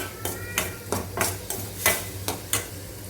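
Tomatoes being stirred and fried in a pan for tomato rice, with a spoon scraping and tapping the pan in regular strokes over a steady low sizzle, close and fairly loud, no talking.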